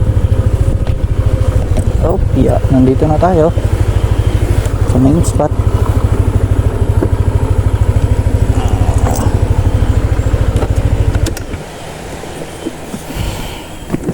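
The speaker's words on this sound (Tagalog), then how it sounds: "Tapos papark ng motor dito." A motorcycle engine runs loudly nearby at a steady idle as the rider pulls in to park at a shore fishing spot, then cuts off abruptly near the end. Someone talks over the engine.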